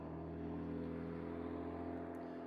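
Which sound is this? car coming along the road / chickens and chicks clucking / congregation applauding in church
car coming along the road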